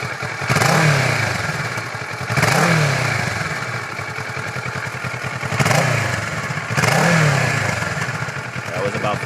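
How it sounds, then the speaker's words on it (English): A warmed-up 2012 Kawasaki Ninja 650 sits idling and is revved four times in even succession, each rev a loud rising whine that falls back to a rattly idle; a voice speaks briefly between revs. "I'll go ahead and rev it for you"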